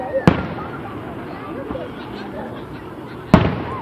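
Fourth of July fireworks in Chillicothe go off in two sharp, loud bursts a few seconds apart, with a crowd chattering and talking throughout.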